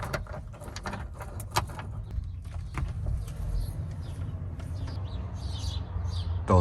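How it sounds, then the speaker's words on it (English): Scattered bird chirps and short calls come and go over a low rumbling background, moderately distant. "Those birds were loud as shit this morning."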